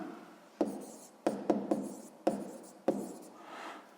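Pen strokes on paper during a sixth-grade maths exercise, a faint close scratching broken by about six sharp taps at irregular intervals, with no voices.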